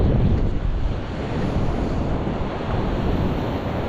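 Ocean waves wash onto a beach in a steady, loud roar, mixed with gusting wind rumbling against the microphone, and no voices.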